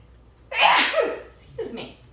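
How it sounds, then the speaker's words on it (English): A man sneezes while making a green sauce in a home kitchen, one loud close sneeze followed by a softer second burst a moment later. "I'm gonna sneeze."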